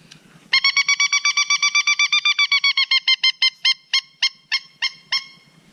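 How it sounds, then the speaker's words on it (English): A pileated woodpecker locator call played on a hunting call: a loud, rapid series of nasal, honking whistle notes close by, starting fast and steady then slowing and spacing out toward the end. "this is a pleated woodpecker call"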